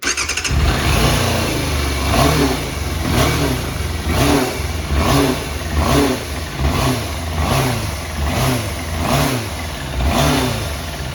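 Yamaha motorcycle engine with uncleaned carburetor pilot jets, running steadily and loud up close with a rhythmic pulsing idle and regular throttle blips; no voices.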